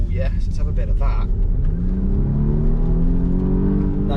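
A Polestar Engineered Volvo XC60 with an inline four turbo engine accelerates, its hum climbing steadily in pitch inside the cabin, with a voice talking over it at the start.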